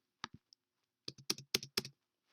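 Keys on a computer keyboard pressed during a Control-click and cut in Google Docs, a few scattered sharp clicks followed by a denser run of crisp, close keystrokes in quick clusters, with no voice.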